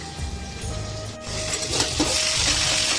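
Potatoes fry in a wok with a continuous, fairly loud sizzle and faint utensil scraping, heard close and steady throughout.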